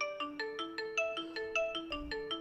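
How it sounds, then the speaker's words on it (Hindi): A short melodic ringtone-style tune plays through the speaker of a Poco M2 Pro phone during a speaker test, with quick plucked notes in a bouncing rhythm, fairly quiet and alone. "तो आपको यहाँ पे एक म्यूजिक सुनाई दे रहा होगा"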